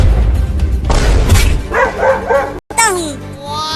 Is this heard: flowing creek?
no